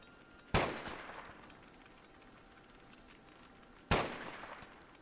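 Two sharp gunshots in the video game Rimworld, spaced a few seconds apart, each a crisp crack with a short decaying tail over a quiet background.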